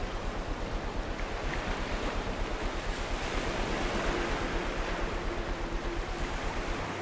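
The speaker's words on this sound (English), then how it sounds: "God, that water is incredibly loud," Loud rushing water roars in the video game Among the Sleep, a dense, continuous wash of noise with a slight pulsing surge and no break.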